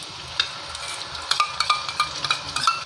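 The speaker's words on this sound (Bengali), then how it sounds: "এবারে আমি এর মধ্যে মিশিয়ে নেব এই দইয়ের যে মশলাটা আমি তৈরি" A spoon stirs a yogurt spice paste into fried ginger in a pan for a paneer curry, with a soft hiss and a run of light metallic scrapes and clinks.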